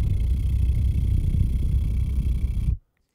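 A human mouth imitates a deep subwoofer bass, producing a close, loud, steady low rumble for nearly three seconds before cutting off abruptly into silence.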